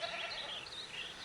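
A lone goat wanders in Jurassic World Evolution and gives a wavering, continuous bleat, fairly clear against a soft ambient game background.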